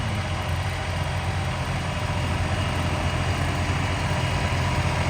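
A tractor engine idles steadily at close range during wheat sowing, a constant low rumble with vibration and no break for the whole stretch.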